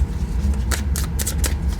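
Tarot cards are shuffled by hand during a card reading, a few quick riffling bursts over a low background hum, close and clear with no talking.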